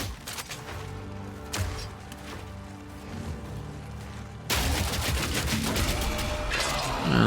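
Grenade blasts in the action game Path of Exile 2, with dense crackling explosions and steady battle noise that turn louder and harsher partway through.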